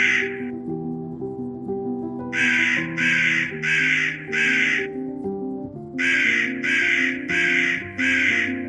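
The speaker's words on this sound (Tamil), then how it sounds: "காக்கா ரொம்ப ஹாப்பி ஆயிருச்சு." A crow caws in two bursts of four to five harsh, evenly spaced calls, loud and close, over soft background music in a children's story.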